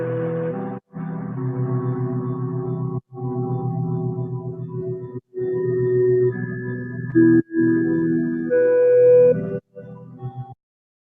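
A sustained synth chord progression, each chord held a couple of seconds with brief gaps between changes, a higher melodic line stepping along on top.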